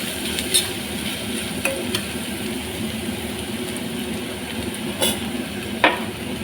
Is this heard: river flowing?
no